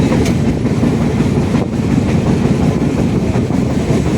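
A passenger train rumbles steadily along a railway track as it climbs a ramp, a loud continuous roar with faint rhythmic wheel clatter and no voices.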